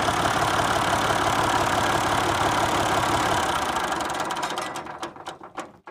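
A 1972 Massey Ferguson 135 tractor engine idles in a loud, steady, close chugging rhythm, then winds down and shuts off near the end, leaving a few sputters.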